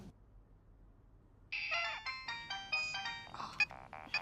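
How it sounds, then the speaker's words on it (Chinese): A mobile phone ringtone starts in a quiet meeting room and repeats as a loud, bright electronic melody for a few seconds. "别总是开会的时候这个手机此起彼伏的响"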